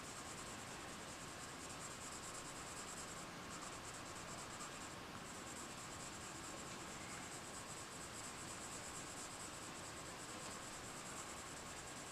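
Prismacolor colored pencil drawn lightly across paper, a steady soft scratchy rubbing hiss that runs continuously, close and faint, with no talking.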